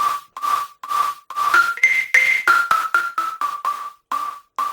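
A bright synthesized whistle in a future bounce track plays a rhythmic run of short notes, rising then falling in pitch, loud and up front over a steady electronic lead.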